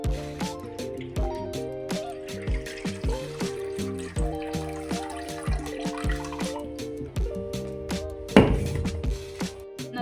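Water being poured off homemade butter after washing, a series of soft splashing, dripping pours with a louder slosh near the end, no talking.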